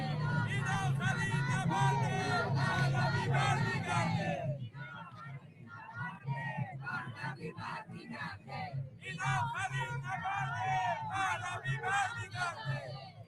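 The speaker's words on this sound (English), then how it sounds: "Generally, there's some chants going around." A large crowd chants and shouts together at a rally in Tel Aviv, a loud massed roar of voices that drops to scattered calls midway before swelling again, with talk mixed in.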